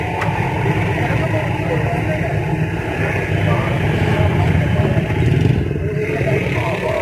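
A car engine with electronic fuel injection idles steadily at close range with a low, continuous rumble and light mechanical clatter, while people talk briefly over it.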